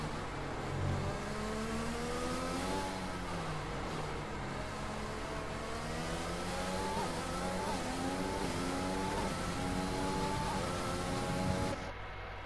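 Several F1 2020 race cars scream past in a British Grand Prix race, engines rising and falling through gear changes in overlapping, continuous revving, loud and close throughout before a brief cut near the end.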